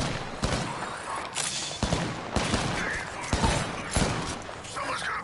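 Gunfire in a shooter video game, with repeated sharp bursts of shots cracking out in quick succession over a steady, busy background of game noise.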